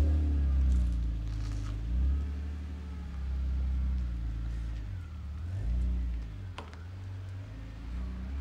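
An Audi RS4 with 58,000 kilometres on it drives off, its engine a steady low rumble that swells and eases in gentle waves as it pulls away, heard close with no talk.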